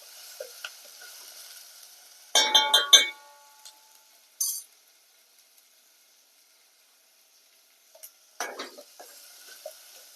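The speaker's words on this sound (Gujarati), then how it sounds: "ધીમા ગેસ ઉપર થોડીક વાર હલાવતા રહેવાનું" Chilli, ginger and turmeric stirred in a pan over low gas, with brief bursts of spoon scraping, clinking and soft sizzling separated by near-silent pauses.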